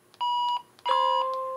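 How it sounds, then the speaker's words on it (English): A Radtel RT-730 handheld radio refuses to transmit with two clear electronic beeps, a short tone followed by a longer one, close and alone with no talk. "but it beeps and lets you know you cannot transmit on it."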